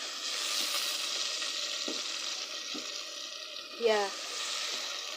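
Soya chunks hiss and sizzle steadily in a hot saucepan, close and continuous, with a few clinks and a brief scraping stir midway; a voice speaks briefly.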